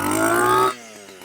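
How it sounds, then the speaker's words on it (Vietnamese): A Mitsubishi T100 brush cutter engine runs loud and buzzy at close range for about half a second after being pull-started, then cuts sharply to a quieter idle with rhythmic ticking. "Em dọn nổ rồi em giật cho mình xem luôn."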